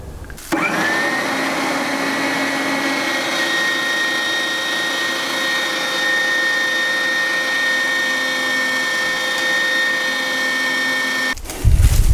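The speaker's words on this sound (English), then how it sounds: "place the mince into the grinder and probably pass it through 2 or 3 times until we get almost like a sausage meat style consistency" An electric meat grinder runs steadily for about eleven seconds, passing minced meat through for homemade doner kebab. Its motor whine is loud, close and even, starting and stopping abruptly, with no talk.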